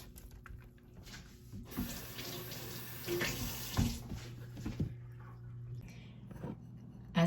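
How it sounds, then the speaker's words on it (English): Chopped spinach is squeezed by hand to press out its water, giving soft wet squishing and trickling with small dripping splashes, close and quiet and in uneven bursts. "I squeeze the water from the spinach."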